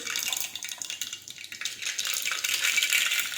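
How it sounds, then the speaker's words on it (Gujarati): Mustard seeds and cumin drop into hot oil for a bottle gourd curry, setting off a dense, close crackling sizzle that swells and holds steady. "હવે આપણે તેમાં રાઈ અને જીરું નાખી દઈશું"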